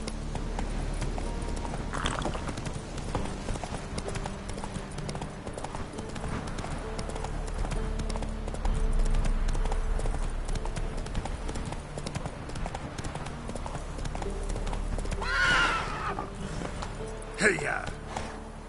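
The horse Roach gallops in a video game, its hooves a steady, rapid clip-clop over a continuous rumbling ambience and music, with a rider's voice calling out briefly.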